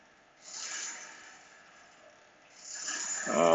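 Rotors of a Graviflyer craft hum steadily, swelling and fading in two slow waves of a beating tone, loud and close with no talk.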